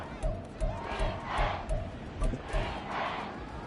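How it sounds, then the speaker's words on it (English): A large football stadium crowd during a Saints versus Panthers game roars in surging, rhythmic waves of chanting and shouting, loud and continuous. "this crowd doing their best to make a lot of racket"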